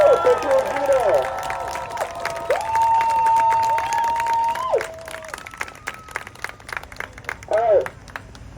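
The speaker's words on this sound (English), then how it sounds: "So everyone, give a round of applause." Audience at a Tallahassee student and activist rally claps and cheers for a community action speaker, a loose crowd roar mixed with whoops and overlapping voices and shouting for several seconds.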